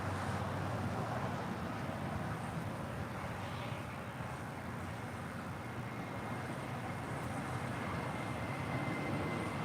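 A JetBlue Airbus A320 departs LAX as a steady, broad roar of jet engines that holds even and loud throughout, with no speech.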